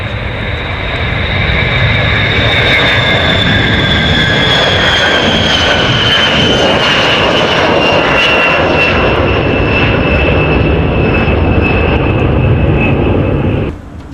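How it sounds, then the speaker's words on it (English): A Boeing B-52 bomber passes with a loud, continuous jet-engine roar. A whining tone slowly falls in pitch as the aircraft flies by, and no voices are heard. "The B-52."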